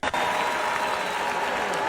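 A basketball crowd at a WNBA game reacts with a sustained burst of loud applause and cheering that fills the arena steadily for about two seconds, after a brief dip at the start.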